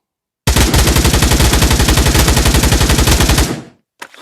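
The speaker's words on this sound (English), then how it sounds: "show you where these rounds go when you're holding the trigger all the way to empty" Full-auto rifle fire in the VR shooting game Pavlov Shack: one loud, fast, unbroken burst that empties the magazine in about three seconds, then cuts off, followed by a short mechanical clack.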